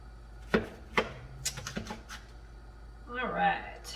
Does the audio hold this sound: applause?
no